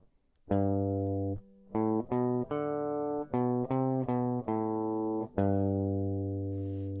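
Slow, deliberate guitar notes form a short tune from the last two bars, about ten plucks with a long final note ringing out, clear and close with no voices.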